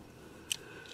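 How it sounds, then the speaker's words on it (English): A single crisp snip as wire cutters clip through a wire on a static grass applicator build, close and brief against a quiet room hum. "I'll cut this wire off."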